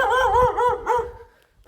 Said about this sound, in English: It's a little dog.